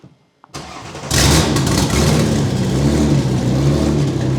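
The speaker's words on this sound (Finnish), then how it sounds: "On muuten hyvän kuulonen moottori." A drift car engine cranks and catches at about one second, then runs loud and steady with a rough, rumbling idle close to the listener.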